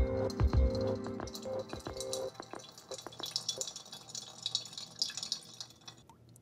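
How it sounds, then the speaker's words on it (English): Cold brew coffee drips through a Brim smart valve into a decanter, starting with a few clinks of glass, then a soft, irregular patter of drips trickling on close by. "Once we place it on the decanter, it's gonna immediately drip."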